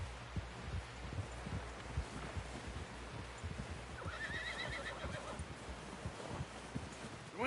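In Red Dead Redemption 2, a horse whinnies loudly partway through over steady hoof clip-clops and a busy, rustling background, with no talking.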